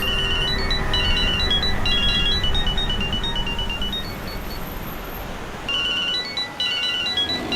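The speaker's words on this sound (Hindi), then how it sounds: "अरे साहब फोन बज रहा है आपका" A phone ringtone plays as a repeating electronic melody of short beeping notes, pausing midway and then resuming, heard clearly over a steady background hum.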